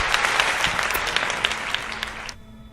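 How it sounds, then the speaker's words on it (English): A short burst of crowd applause, close and fairly loud with scattered distinct claps, cutting off abruptly after a couple of seconds. "Let's give him a round of applause, shall we?"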